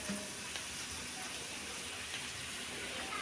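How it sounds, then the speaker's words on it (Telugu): Four glasses of water pour steadily onto two glasses of basmati rice in a cooking pot for bagara rice, making a continuous, even gushing splash that holds at a moderate level for the whole stretch. "దానికి ఇప్పుడు నాలుగు గ్లాసులు నీళ్లు పోసుకుంటున్నానండి"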